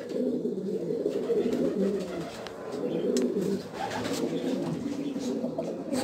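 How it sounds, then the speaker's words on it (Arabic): Racing pigeons coo softly and repeatedly close by in a low, continuous burbling murmur, with a few faint higher chirps mixed in. "ها هو الحمام اللي جا هو هذا"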